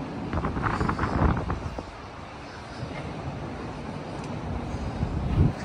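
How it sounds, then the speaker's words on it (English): Strong gusts of wind buffet the microphone high up on the High Line in New York City, producing a loud, rough, continuous rumble that surges and eases. "It's really, really windy up here, guys."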